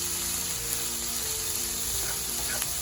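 Mixed vegetables and sweet pepper sauté in a pan with a soft, continuous sizzle, quiet and close, with a few faint clinks as the food is tossed.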